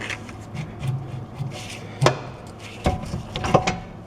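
Metal brake parts on a Chevy Trax rear brake being pried with a screwdriver: soft scraping and rubbing punctuated by a few sharp knocks and clanks, the loudest near the middle and toward the end, close by with no talk.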